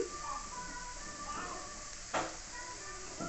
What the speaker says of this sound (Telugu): మొత్తాన్ని ఈ విధంగా వేయించుకోవాలండి